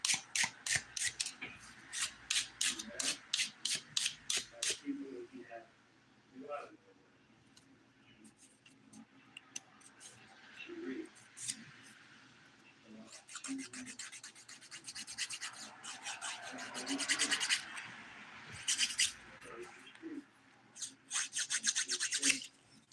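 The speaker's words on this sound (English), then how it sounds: "the filing is going really quick" Fingernails are filed in quick rapid strokes, close and fairly loud, in bursts that stop between sessions, with soft rubbing and faint handling sounds in the gaps.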